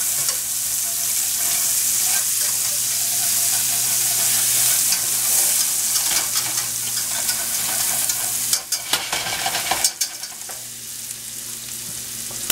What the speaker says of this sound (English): pretty finely diced. And just sweat them down for a minute. Try to scrape up all this stuff off the bottom that I can.